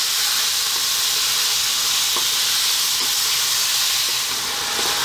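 Tomatoes frying in a pan for a methi chicken curry, a steady loud hiss and sizzle of steam with a few faint pops and clicks throughout, no voices.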